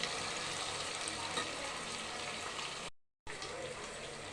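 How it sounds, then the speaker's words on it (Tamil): Ingredients for tomato rice sauté in a pan, a close, continuous hissing sizzle that cuts out briefly and then resumes. No voices are heard. "நல்லா வந்து ஒரு நாலு நிமிஷம் வதங்கட்டும் ப்ரௌன் கலராக வர"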